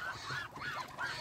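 Muscovy ducks, kept at a duck farm selling ducklings, give loud honking calls in quick succession, close by and alone without talk.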